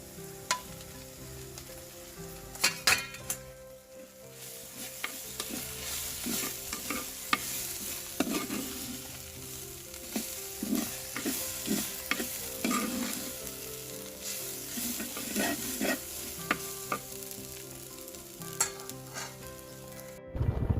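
Okra stir-fried in oil with popped mustard seeds in a clay pot, a long steady sizzle broken by many quick scraping and clicking stirs, close and without any talking.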